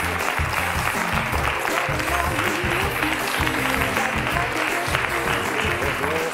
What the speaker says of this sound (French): Merci d'applaudir Mustapha.